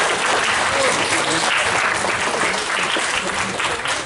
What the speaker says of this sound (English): So I think they deserve a little round of applause.